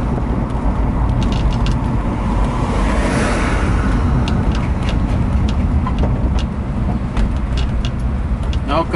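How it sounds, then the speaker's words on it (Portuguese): A truck passes on a highway near Rondonópolis, its steady road roar and engine rumble continuous and fairly loud throughout, with a swell of tire noise in the middle and a voice speaking over it. "Olha o caminhão ali, ó."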